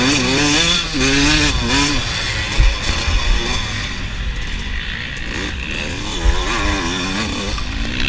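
A dirt bike engine revs and bogs at close range during a hare scramble race, its loud buzzing note rising and falling unevenly as the rider struggles over an obstacle, with another motorcycle droning in the background.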